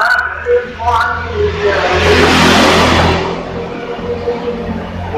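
An electric household water pump switched on with its inlet blocked by a hand, giving a rising whirring, hissing surge that fades after a couple of seconds, with someone talking over it.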